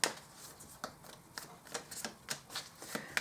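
Tarot cards being shuffled and laid out by hand, a steady run of soft riffling flicks and light papery taps, close and quiet, with no talking.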